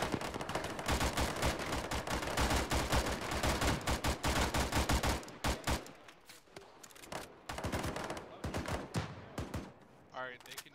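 Dense bursts of rapid automatic gunfire rattle through a video game battle, loud and close, then break into scattered separate shots and short volleys, with voices speaking in between.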